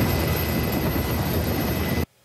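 Rescue helicopter flying to a snowy mountain accident scene, a loud broadband rotor-and-engine roar that holds steady for two seconds and then cuts off abruptly.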